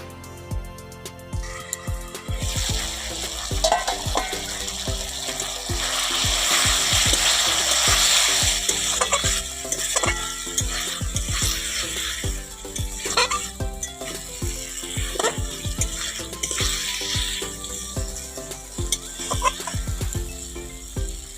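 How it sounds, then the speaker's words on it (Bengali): A spice paste for curry, with soaked green mango, cooks down in a pan, sizzling steadily up close under repeated sharp spatula scrapes and clatters. "দেখো মশলাটা কষানো হয়ে আসছে বন্ধুরা"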